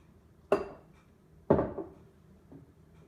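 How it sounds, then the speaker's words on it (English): A utensil knocks twice against a bowl while henna hair dye is stirred with hot coffee, two distinct clinks about a second apart with a faint third tap, close and quiet. "So you're just gonna stir it up and get all the clumps to be smooth."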